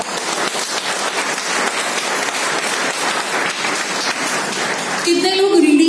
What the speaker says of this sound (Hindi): आज खुद के लिए तालियां होनी चाहिए।